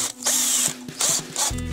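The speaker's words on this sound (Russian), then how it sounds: "просверлить отверстие на нужном расстоянии в уголке" A power drill with a thin bit whines in about three short bursts through metal angle, stopping and restarting, loud and close.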